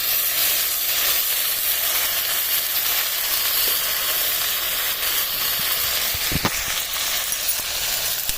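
Onions with ginger garlic paste fry in a pan, giving a steady, close sizzle and hiss throughout, with a couple of brief clinks from stirring near the middle.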